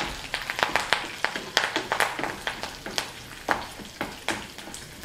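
Tempering spices, dried red chillies and curry leaves fry in hot oil for snake gourd rasam, crackling with a rapid run of sharp, close pops over a steady sizzle.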